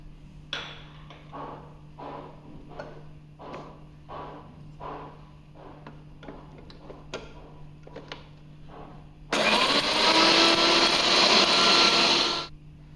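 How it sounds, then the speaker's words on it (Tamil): A series of soft taps and knocks, then a loud mixer grinder grinding spices to powder whirs steadily for about three seconds before cutting off abruptly. "ஆறின எல்லா பொருளையும் மிக்ஸி ஜாரில் சேர்த்து நல்லா பவுடர் பண்ணி எடுத்துக்கலாம்."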